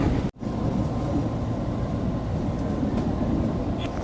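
A KRL Jakarta Commuter Line train rumbles steadily from inside a carriage near Bogor, a low continuous roar with a brief dropout near the start.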